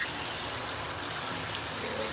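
Water gushes steadily into a MAAX jetted bathtub during a rinse, making a constant, close, broadband rush with no pauses.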